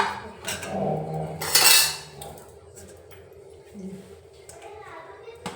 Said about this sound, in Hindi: पहले तड़का वड़का मार देती हूँ